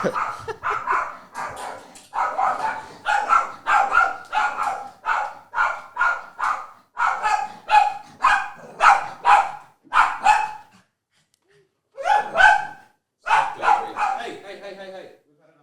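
A dog barks loudly and close by in a long run of rhythmic bursts, with breathy inhales between barks and a short pause near the end.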